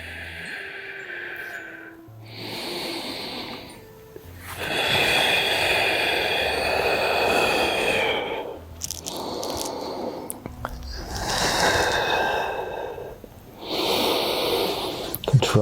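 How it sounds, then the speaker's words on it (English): Slow, deep nasal breathing during a lower-body stretch: long audible inhales and exhales in a steady rhythm, close and clear, alternating with quiet pauses. "Deep nasal breaths in."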